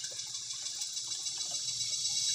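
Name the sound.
flowing water being fetched from a water district tap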